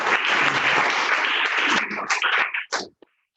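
A club meeting audience claps for its president, a brief burst of mixed applause that thins into a few scattered claps and stops after about three seconds.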